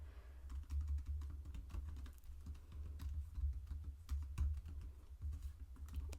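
Computer keyboard typing while writing code, a steady run of quick, close key clicks and taps with uneven rhythm and occasional heavier strokes, alone with no speech.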